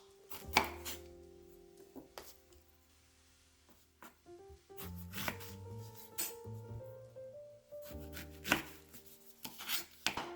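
A knife cuts around the center core of a pear being prepared for seared pears: sparse, close knocks and soft scraping strokes on a board, with quiet pauses between them and no talking.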